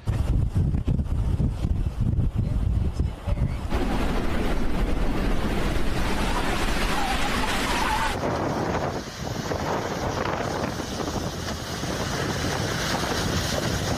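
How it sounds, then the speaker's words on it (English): Waves from Lake Erie surge onto the streets of Buffalo in a winter weekend storm, a loud, continuous roaring wash of water and gusting wind with no voices. "a weekend storm sent waves from Lake Erie surging right onto the streets"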